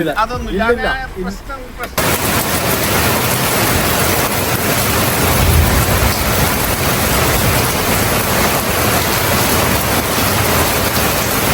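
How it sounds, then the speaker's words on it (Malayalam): Heavy night rain pouring in Vadakara, a loud dense roar that runs on steadily after a brief spoken greeting at the start. "നല്ല മഴയുണ്ട്"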